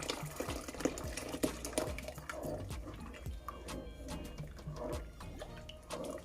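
A thick blended plantain and peanut mixture is poured into a pot for a Jamaican drink, with soft liquid glugging and splashing and intermittent clinks and scrapes close by.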